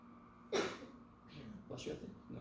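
A single sharp sneeze-like burst erupts in a lecture room, followed by a second softer breathy outburst, both close and fairly loud over quiet room tone.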